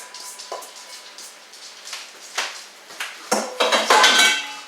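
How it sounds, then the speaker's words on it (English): Broccoli cheddar pasta salad mixture is scraped and tipped into a large bowl, a series of clattering utensil-on-bowl knocks and scrapes building louder toward the end. "we'll take all of our mixture here and just dump it into the big bowl"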